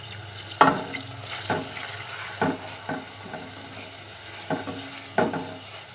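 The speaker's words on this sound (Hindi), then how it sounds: "अब अच्छी तरह इनको हम मसाले को भून लेंगे" Whole red chilies, garam masala, salt and ground cumin fry in a pan for dhaba-style urad dal, a soft steady sizzle broken by several distinct scraping stirs of a spoon at roughly one-second intervals.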